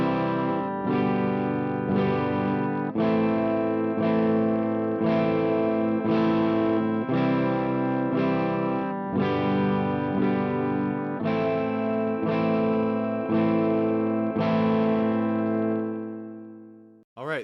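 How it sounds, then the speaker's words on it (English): Electric guitar strumming the chords of a song in steady quarter notes, a clean effected tone with chorus shimmer, each chord ringing evenly in a regular pulse until a final sustained chord fades. "I'll be strumming the chords in quarter notes, and that is going to sound like this."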